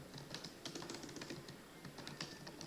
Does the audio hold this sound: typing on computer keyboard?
yes